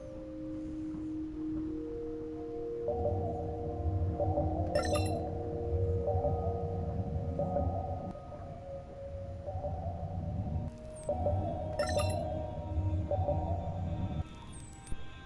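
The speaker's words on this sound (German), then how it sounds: "Junge Delfine." Young dolphins calling in the underwater video game Beyond Blue, a series of sustained tonal whistles and sonar-like pings that shift pitch in overlapping phrases, with a few sharp clicks, alone over a quiet background.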